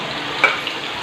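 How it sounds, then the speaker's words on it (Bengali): Potatoes frying in hot oil in a home kitchen pan give a steady close sizzle with a few brief louder pops, no voices over it. "আর এখানে দেখো আলু ভাজতে বসিয়ে দিয়েছি"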